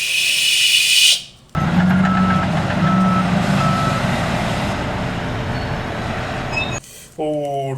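A drum truck's engine rumbles steadily while its reversing beeps sound in a regular, loud series, with a brief break and a short shift in the noise near the end; someone talks over it.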